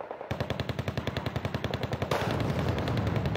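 Tanks firing in the real-time strategy game Wargame: a rapid, evenly spaced burst of loud automatic shots, then a dense continuous roar of gunfire in the final second, with no talking.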